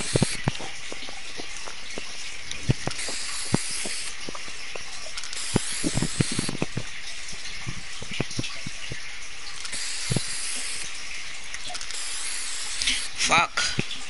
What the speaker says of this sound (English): You see what I'm doing with the spray paints?